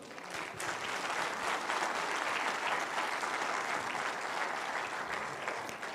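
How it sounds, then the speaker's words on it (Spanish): Congregation applauding at an evangelistic campaign service, a dense, steady wash of clapping from a large crowd that holds evenly throughout. "Un aplauso para el Señor."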